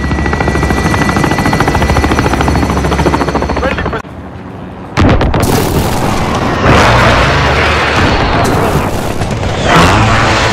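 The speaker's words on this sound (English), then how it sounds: "Enemy chopper gunner on approach." Enemy chopper gunner helicopter approaching in a first-person shooter video game on a backlot map, a loud sustained rotor drone mixed with booming explosions and gunfire, breaking off briefly before heavy combat noise resumes.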